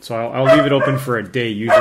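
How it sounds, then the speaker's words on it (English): Dogs bark and yip loudly indoors, close by, in a string of high whining calls that run over someone speaking. "Sorry about the dogs."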